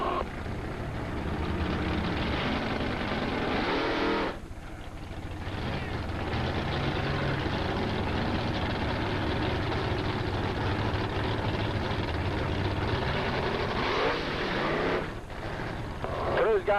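A big Hemi-powered drag racing car at Valley International Dragway in 1985 roars with a loud, sustained engine drone that dips briefly twice, under an announcer's voice calling the lineup.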